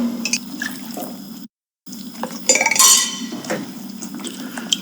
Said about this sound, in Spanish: Seguimos revolviendo.